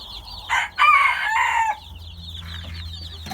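Chickens, bantams and roosters cluck and crow close by in a brief loud outburst, with softer clucking trailing off over a low farmyard rumble.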